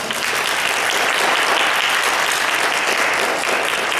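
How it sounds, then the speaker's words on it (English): An audience gives a panel sustained applause, a thick, even roar of clapping from many hands, loud and unbroken. "If everybody please give them a round of applause."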